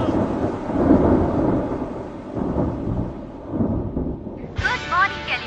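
Heavy thunderstorm with deep rolling thunder and rain rumbling continuously and loudly, ending with a brief higher-pitched sound cutting in near the end.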